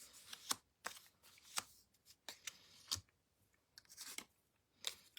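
Paper being cut into small 4.5 cm squares for a craft technique, with a series of sharp, close snips and crisp rustles spaced irregularly over a few seconds in an otherwise quiet room.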